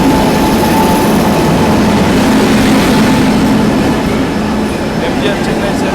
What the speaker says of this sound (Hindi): आरपीएम वेब 7 के साथ ग्रैंड ट्रंक एक्सप्रेस आता हुआ नागपुर स्टेशन पे